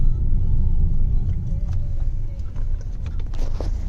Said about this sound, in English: because there's a lot of traffic in front.